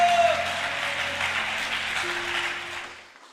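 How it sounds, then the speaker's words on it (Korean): Audience applause at a church service fills the space with steady, dense clapping, starting strong and gradually thinning as it fades out near the end. "다시 한번 큰 박수 보내주시기 바랍니다"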